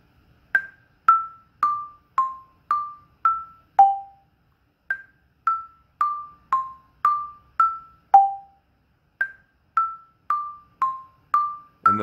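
Orff xylophone struck with mallets playing a short melody three times over, single bright notes in an even rhythm with brief pauses between phrases, each tone ringing and decaying cleanly with no talk.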